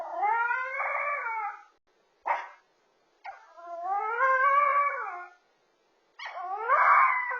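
A young puppy named Cashew, left alone and anxious, howls in long wavering cries, three drawn-out howls broken by a short yelp, with silent gaps between them, close and fairly loud.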